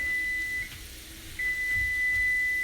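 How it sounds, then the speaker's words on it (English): A kitchen timer signals that a spaghetti squash has finished cooking, sounding a steady high-pitched electronic tone that cuts out briefly and then resumes, clear over a quiet kitchen background. "that timer is telling me that my spaghetti squash is done"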